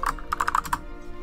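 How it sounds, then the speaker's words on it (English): Quick burst of keystrokes on a computer keyboard while entering a directory path on a PC, about eight close, crisp taps clustered in under a second, then quiet. "I have to type mine in."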